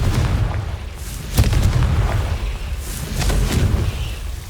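A Confringo blasting curse erupts in Hogwarts Legacy, with loud booming explosions, one sharp blast followed by rumbling detonations and crackling bursts, heavy low-end and no voices over them.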